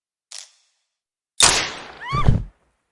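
A single sharp gunshot in an animated mansion murder-mystery cartoon, a loud broadband crack followed by a short ringing tail, preceded by a brief faint click.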